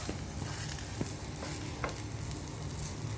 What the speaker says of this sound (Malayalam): വേവട്ടെ, മീനിൻ്റെ മുട്ടയല്ലേ.